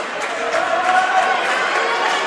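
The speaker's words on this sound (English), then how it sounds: "He gets his round of applause." Basketball crowd applauding a player as he leaves the floor late in a Pembroke versus Manchester West game: sustained, dense clapping filling a gym, loud and continuous, with a commentator's voice faintly mixed in.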